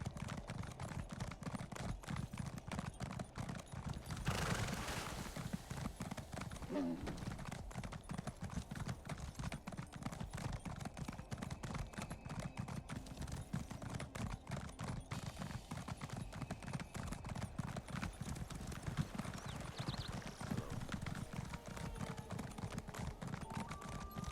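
A horse in the Elder Scrolls Online video game clip-clops along in an even, continuous trot. The rapid hoofbeats repeat steadily and fairly quietly, with a brief whinny-like swell partway through.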